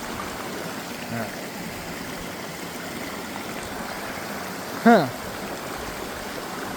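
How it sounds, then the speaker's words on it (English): Creek water flowing at a hiking trail water crossing, a steady broadband rush up close with a brief spoken murmur near the end. "We've made it to the 9th water crossing."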